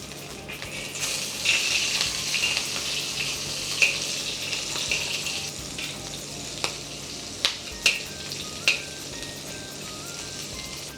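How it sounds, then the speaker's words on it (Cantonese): Prawns slowly pan-frying for tomato-sauce prawns, a steady close sizzle with occasional sharp pops and crackles, no talking. "咁我哋就開始擺啲蝦落去， 慢慢煎。"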